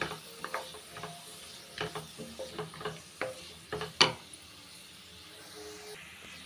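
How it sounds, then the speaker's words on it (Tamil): Onion, coriander and cashews sautéed lightly for Afghani paneer gravy, heard as a soft background sizzle broken by a series of spoon scrapes and taps against the pan, one sharper clank near the middle, with no talking. "வெங்காயம் கொத்தமல்லி எல்லாமே லைட்டாக வதக்கினாலே போதும்"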